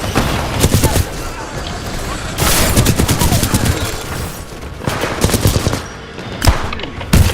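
Gunfire in the Titanfall 2 video game: loud, rapid machine-gun bursts repeat close up, with pauses and a heavier blast near the end.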